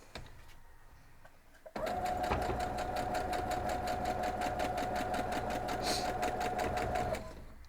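A sewing machine stitching quilt blocks into rows runs steadily for several seconds, its rapid rhythmic stitching loud and close, starting abruptly after a quieter moment and stopping near the end.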